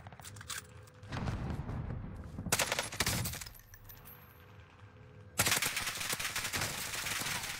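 Rapid gunfire from a shooter video game hits the player in dense automatic bursts, separated by short quieter gaps and played back at a low level.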